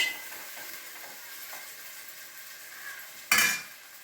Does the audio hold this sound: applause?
no